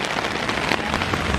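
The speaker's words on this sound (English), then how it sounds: "in England we're used to this. Maybe not this heavy, but we're used to the rain." Heavy rain in Japan pours down steadily, a dense, even hiss of drops drumming on surfaces close by, with no voices over it.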